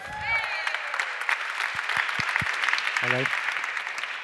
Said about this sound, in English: Big warm round of applause, please, for an incredible speaker.